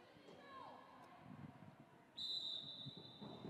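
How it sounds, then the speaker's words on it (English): A referee's whistle sounds at a roller derby game, a sharp sustained blast cutting through the crowd noise and murmuring voices of a busy arena. "Whistle blows."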